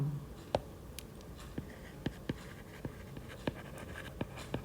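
Pen or marker strokes writing out ratios during a maths lesson, a sparse run of short soft taps and scratches spread irregularly across the span, close and quiet, with no talk.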